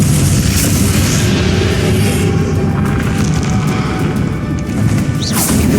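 A Bombarda blasting spell goes off in Hogwarts Legacy with a loud, heavy boom and crashing debris, followed by dense rumbling battle noise and a second sharp burst near the end.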